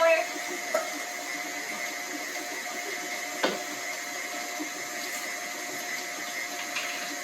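An electric mixer beats sugar cookie dough with a steady mechanical whir and hum, broken by a few brief knocks and clicks.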